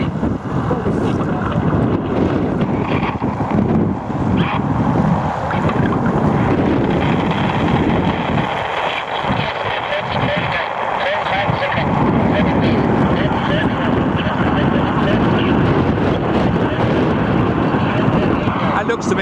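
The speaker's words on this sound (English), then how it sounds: "Wind's come up nice and strong." Strong wind buffets the microphone in a steady roar over Bray Lake, with water sloshing faintly beneath and voices talking under the noise.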